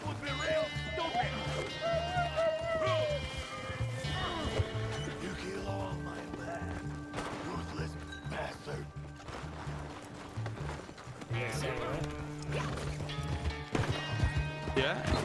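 A horse in Red Dead Online whinnies early on amid repeated hoof clip-clops and game ambience, with someone talking over much of it.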